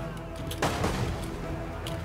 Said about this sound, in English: there's artillery fire